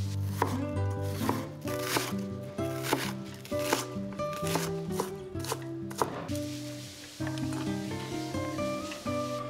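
Knife chopping onion on a cutting board in a home kitchen, a fast run of crisp, close, rhythmic knocks that pauses briefly and then resumes, with no talking.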